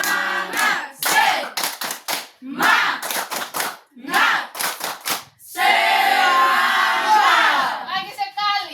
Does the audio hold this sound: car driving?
no